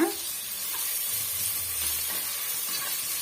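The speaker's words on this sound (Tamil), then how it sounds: "இந்த பச்சைவாடை போகிற வரைக்கும் நம்ம வதக்கி விட்டுக்கலாம்" A tomato mixture seasoned with chili powder sautés in a pan, giving a steady bright sizzle and hiss with faint stirring scrapes underneath, continuous and close, without speech.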